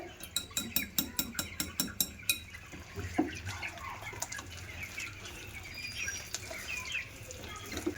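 Cake batter of flour and water being beaten by hand in a bowl for an eggless sponge cake, a quick rhythmic run of sharp clinking strokes at first that then turns into softer, irregular scraping and tapping, close by with no talking.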